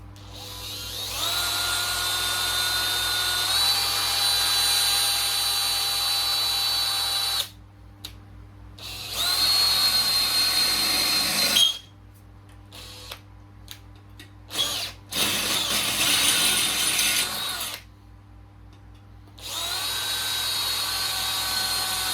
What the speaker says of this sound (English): enough to hold the drill bit so that I can drill 2 holes